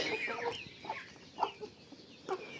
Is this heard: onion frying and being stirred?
no